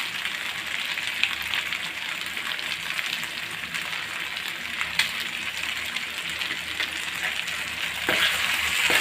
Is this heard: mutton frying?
yes